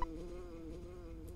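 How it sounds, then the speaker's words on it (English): Insect-like buzzing of flying bees in the video game Earthbound, a steady close drone with a faint higher whine running throughout. "Ness, did you hear a buzzing sound?"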